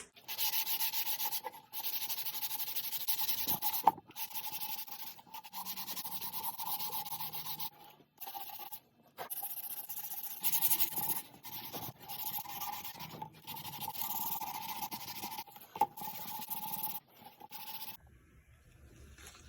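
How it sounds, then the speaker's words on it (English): Sanding cracked oak wood by hand, with steady, raspy back-and-forth strokes that repeat in short runs, broken by brief pauses, close up and fairly quiet. "let's sand this up and see what comes out."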